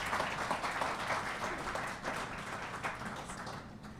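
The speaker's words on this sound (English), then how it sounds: "Let's give them a round of applause." An audience at a book launch party applauds in a steady wash of clapping that fills the room throughout, moderately loud and without any voices on top.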